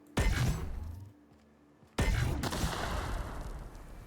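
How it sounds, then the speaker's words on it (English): A blast goes off in The Outer Worlds, a sudden loud burst that cuts in after a short near-silent gap and leaves a long rumbling tail. A separate strong impact is heard shortly before it. "Explosion."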